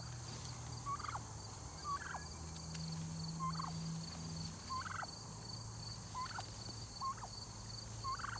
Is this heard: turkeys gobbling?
yes